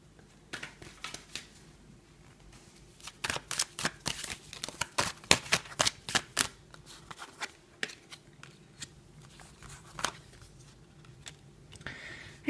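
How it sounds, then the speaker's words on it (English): A deck of tarot cards is shuffled close up: rapid, crisp riffling clicks come in quick bursts, densest in the middle, then thin out into scattered taps. "So give the cards a good shuffle."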